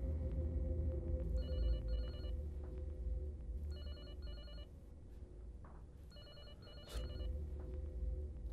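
A telephone rings in three separated bursts of bright trilling tones over a low steady hum, each ring lasting about a second with pauses between, fairly faint and with no talking.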